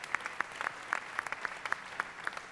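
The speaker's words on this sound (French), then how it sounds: "on l'applaudit" Audience applause at a French round-table discussion: a sparse scattering of sharp, individual hand claps that pop out at an uneven rhythm from a moderately quiet room.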